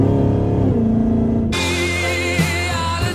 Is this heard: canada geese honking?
no